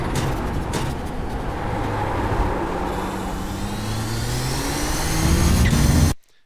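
Race car engine held at full throttle at Twin Ring Motegi in iRacing, a loud sustained roar with rising pitch and gear changes that cuts off abruptly at the end.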